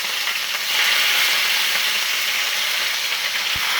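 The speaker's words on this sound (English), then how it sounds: "Right here, I'm going to start to fry my fish." Fish frying in a hot pan, a steady close hiss and sizzle that runs unbroken throughout, loud and alone with no voices.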